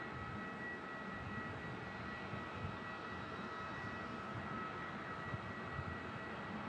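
An Emirates airliner taxis at Melbourne Airport, its jet engines giving a steady, distant broadband rumble and whine that stays level and unbroken throughout, with no voices.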